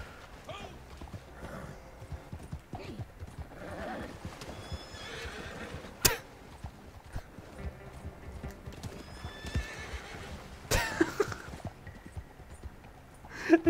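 Horse in the Red Dead Online video game whinnies and neighs while its hooves clip-clop steadily, with a sharp thud partway through and a voice talking over it at moderate level.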